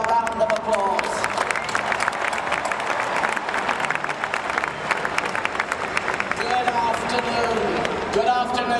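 Large commencement crowd at a 2019 NYU graduation ceremony applauds the Steinhardt and Tisch Ensemble, a dense, steady wash of clapping sustained throughout, with faint voices and cheers mixed in.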